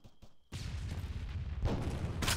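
Video game explosion in a multiplayer shooter, a sudden loud boom that opens into a sustained rumbling blast lasting about two seconds, with a second burst at the end and no talk.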